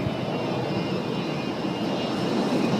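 Airplane cabin during takeoff in a French comedy film scene, a steady, loud engine roar with a broad rushing hum that holds even for the whole short stretch.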